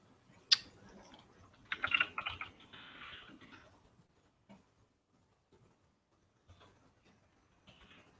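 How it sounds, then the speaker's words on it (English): Typing on a computer keyboard: a sharp single click, then a dense burst of rapid keystrokes, followed by a few scattered faint taps, close and alone with no talking. "Oops, typing in the wrong window here."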